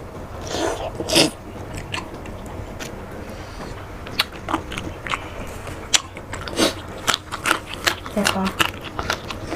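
Meatballs being bitten and chewed up close, with irregular soft crunches and wet bites scattered through the stretch while people talk over them.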